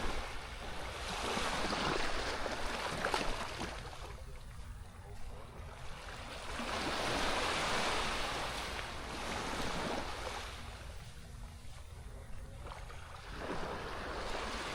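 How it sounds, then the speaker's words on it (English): Ocean waves wash onto a beach at Playa del Carmen in slow, rolling surges, rising and fading every few seconds with a steady background hiss of surf. "I'm just gonna let you guys listen to the waves and enjoy the view"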